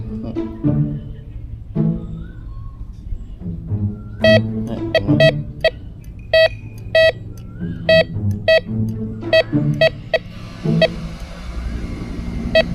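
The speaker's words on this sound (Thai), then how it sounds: "ถ้าสมมติเราเจอของที่อยู่ใต้ดิน ที่เป็นโลหะนะครับ มันก็จะมีเสียงขึ้นอย่างนี้นะครับ" A metal detector held over a metal bracelet gives a series of sharp, loud electronic beeps, in short bursts and clusters, over a low background rumble.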